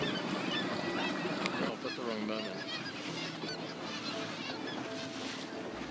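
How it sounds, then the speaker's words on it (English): A dense chorus of cormorants and gulls honks and calls continuously, many voices at once, over a steady wash of wind and surf, in Southeast Alaska. "They are joined by cormorants and gulls."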